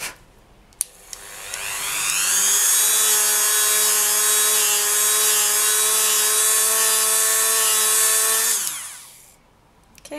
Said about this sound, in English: So I'm now going to do it on the buffing wheel and we'll see if it makes it shinier.